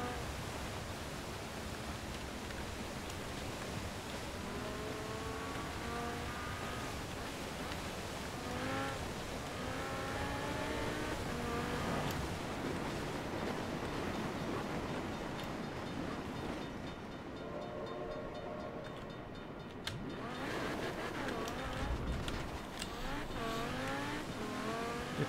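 An Audi RS7 Sportback engine in Forza Horizon 4 revs up through repeated rising gear pulls on a snowy stretch, moderately loud, with a train rumbling in the game at one point.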